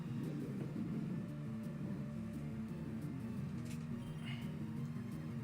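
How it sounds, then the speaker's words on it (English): A truck rumbling past outside makes a steady, deep low rumble that fills the whole stretch at an even level, with no voices over it. "That's a truck. That's not a motorcycle."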